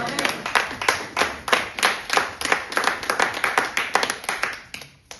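A revival church congregation claps together in a steady, brisk rhythm, many hands close and loud, keeping time for several seconds before stopping abruptly.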